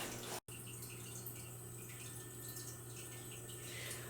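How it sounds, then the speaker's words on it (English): Fresh water pours steadily into a 10-gallon fish tank with a soft, continuous rushing and trickling, quiet and even after a brief dropout at the start. "let's go ahead and add some of this fresh water in"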